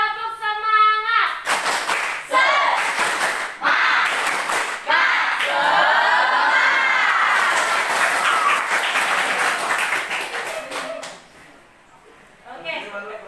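A class of junior high students at SMP Negeri 36 OKU chant a rhythmic clapping cheer, with voices and patterned claps together, then break into loud group applause that fades out.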